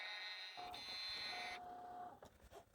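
A Cricut vinyl cutting machine whirs and buzzes as it cuts permanent white vinyl, a close motorized hum with shifting tonal whines and a few clicking stops, heard alone without voices.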